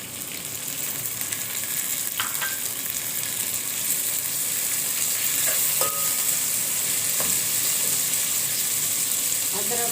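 Tomatoes and green chilies frying in a karahi while cooking mutton karahi, a continuous close sizzle and hiss with occasional clinks from stirring.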